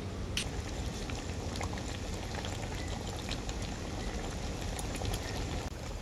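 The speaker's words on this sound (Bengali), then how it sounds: "পনির আর ফুলকপিটা দেওয়ার পর ঝোলটাকে আমি খুব ভালো করে ফুটিয়ে নিয়েছি" A vegetarian yellow cauliflower and paneer gravy boils in a pot, giving a continuous dense bubbling and popping at close range, with no speech.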